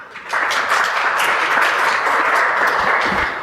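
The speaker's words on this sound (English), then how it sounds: "let's give Reuven a big round of applause" An audience at a summit applauds a presenter, a dense, steady wash of many hands clapping that starts abruptly and holds at full strength throughout.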